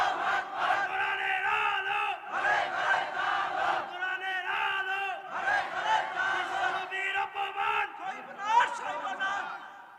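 A large crowd at an Islamic religious gathering (mahfil) chanting the slogan Allahu Akbar in loud, rhythmic unison, with the voices rising and falling in repeated waves.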